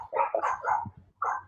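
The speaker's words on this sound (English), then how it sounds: "And my little doggy is now barking." Small dog barking indoors, several quick yappy barks in a row, then a pause and one more bark, moderately close and clear.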